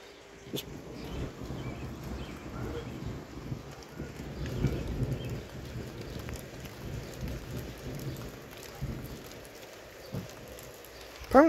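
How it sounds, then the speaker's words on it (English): Steady rain pours onto a deck during a thunderstorm, a dense continuous patter with low rumbling beneath and a few sharper knocks, close and moderately loud throughout. "Here comes the raindrops."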